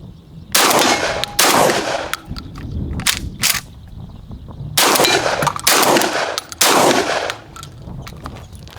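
Benelli M3 shotgun firing Lambro 1350 FPS slugs while being broken in, a loud string of sharp blasts in two clusters of about three to four shots each, the rapid reports separated by a short pause.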